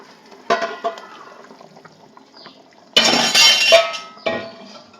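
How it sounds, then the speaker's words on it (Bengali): Pointed gourds dropped one by one into simmering mustard gravy in a pan, giving a few wet splashes and clinks, with one louder burst of bubbling splatter near the middle and a shorter one after. "এবার আমি পটলগুলোকে এক এক করে ওর মধ্যে দিয়ে দেবো পটলগুলোকে এর মধ্যে সব দিয়ে দিলাম"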